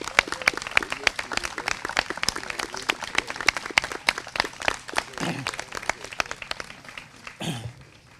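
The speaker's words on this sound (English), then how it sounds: "How about a round of applause for all these men and women?" An audience at an outdoor veterans community day claps for the veterans, a lively burst of many individual hand claps with a cough or two, then thinning out near the end.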